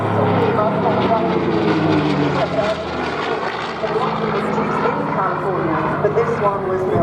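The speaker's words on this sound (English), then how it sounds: "view of the underbelly of this P51 Mustang known as Jersey Jerk, manufactured in 1947." P51 Mustang propeller fighter, built in 1947 in Melbourne, Australia, flying at a seaside airshow, a steady loud engine drone overhead with a crowd and commentary talking over it throughout.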